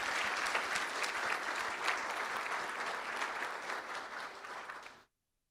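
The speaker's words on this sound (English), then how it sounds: "Let's give David a round of applause." Audience applause at an evening board meeting, steady and sustained for about five seconds from a room full of people, then cutting off abruptly to silence.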